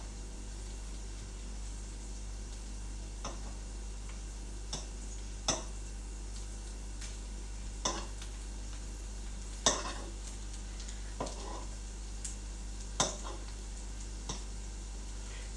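Sausages fry with a steady low sizzle in a Teflon pan while a metal fork occasionally taps and scrapes against it, producing sparse sharp clicks over the continuous hiss and a constant low hum.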